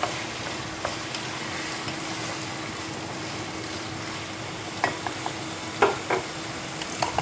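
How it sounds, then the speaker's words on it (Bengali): Potatoes stirred in hot oil in a pan while cooking fish-head curry, giving a steady broadband frying hiss with a few brief scraping clicks of the spatula toward the end, no talking. "আলুটা দিয়ে দিলাম, আলুটাকে এবার ভালোভাবে নেড়ে নেব।"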